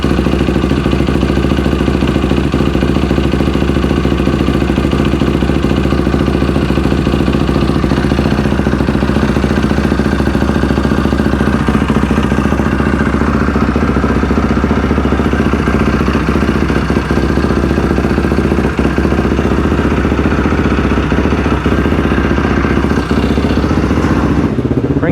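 A Yamaha YFZ450R quad with a freshly built engine idles steadily through its first heat cycle, a loud close mechanical clatter and whir running unbroken with no one talking.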